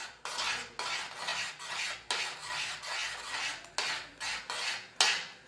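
A spoon scrapes and stirs a thick lemon pickle mixture of chilli powder and sugar in a pan on the stove, in steady repeated strokes, close and fairly loud with no voices.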